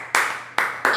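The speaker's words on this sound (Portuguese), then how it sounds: "o estalar de dedos" Three crisp finger snaps close to the microphone, spaced about a third of a second apart, each with a short ringing tail in a quiet room.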